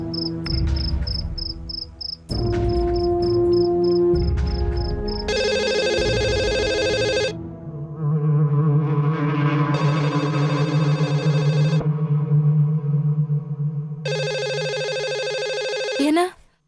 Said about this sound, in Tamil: என்ன ஆஃபீஸ்ல ஃபோன் அடிக்கிற சத்தம் கேக்குது?